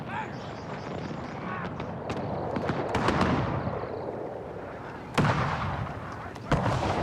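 Cannon and musket fire on a Pike & Shot Total War multiplayer battlefield: a dense, rumbling battle din with scattered sharp cracks and two loud, close booms near the end.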